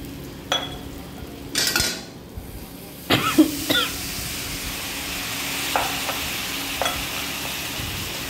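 A spiced kofta mixture of raw banana with ginger, cumin and coriander fries quietly in a pan, with a few sharp spatula scrapes and knocks against the metal standing out over a low sizzle.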